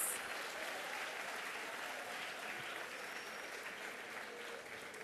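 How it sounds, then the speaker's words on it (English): An audience at a sesquicentenary inauguration evening breaks into a long, steady round of applause welcoming Mr. Kaushal, dense clapping filling the hall at an even level from start to finish, no talking over it. "please join me in welcoming Mr. Kaushal once again with a loud round of applause"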